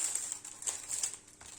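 Paper protective sheet of a cross-stitch kit crinkling during unboxing, a soft close rustle with several brighter crackles across the moment, no speech.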